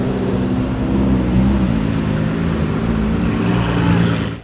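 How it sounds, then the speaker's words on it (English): Engines at a nighttime car meet held loud and steady, with a low rumbling drone and shifting tones as several vehicles rev together, close by and continuous. "everyone started revving"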